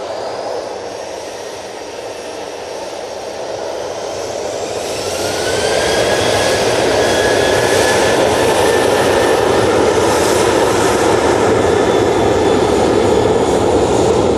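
A jet airliner bound for Alicante roars as it departs Manchester Airport, a broad, steady engine rumble heard from a distance that swells louder and holds, with a rising whine over it.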